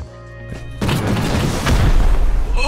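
A rocket detonates in the survival video game Rust, opening with a sudden deep boom that rolls into a loud, sustained rumbling blast with no talk over it.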